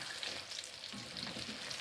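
Battered gourami fish frying in hot oil in a home kitchen, a steady, soft crackling sizzle with no talk.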